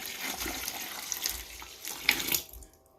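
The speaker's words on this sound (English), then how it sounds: "And I'm also going to put in there a gallon of steaming hot water." Steaming hot water from a kitchen sink pours into a 5-gallon bucket while mixing homemade liquid laundry detergent: a steady, close splashing rush for over two seconds that then cuts off to quiet.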